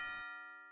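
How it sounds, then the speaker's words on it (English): A bright bell chime rings out in Miitopia as a new party member joins, a clear sustained tone that follows a short burst of sound and then decays slowly on its own. "And that sound of the bell"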